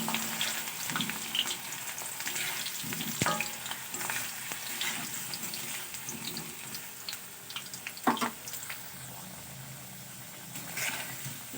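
Potatoes frying in hot oil for a Bengali bhat bhaja, stirred now and then, a steady close sizzle broken by scraping stirs and a few sharper clinks, with no voices.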